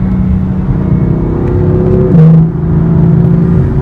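A 2015 BMW M4 Coupe engine pulls hard under acceleration, a loud, steady droning growl whose pitch climbs and then drops briefly, as if through a gear change, before settling back.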